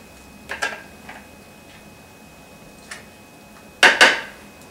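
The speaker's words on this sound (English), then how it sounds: "So you'll just cut open your avocado and scoop out the flesh into the food processor." Avocado flesh is scooped into a food processor: a few sparse clinks and taps of a utensil against the bowl, with two louder knocks near the end, in a quiet kitchen.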